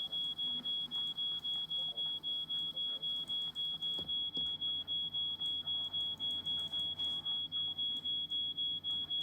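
A smoke alarm set off by burnt toast in a video game beeps in a rapid, unbroken run of shrill pulses, loud and steady throughout, with a few soft knocks underneath.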